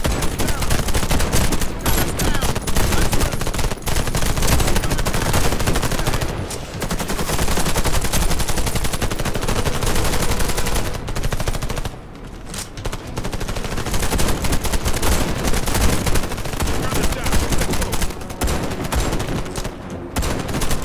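Rapid automatic gunfire rattles almost nonstop in the Warface first-person shooter video game, loud dense bursts with only brief gaps, with no speech over them.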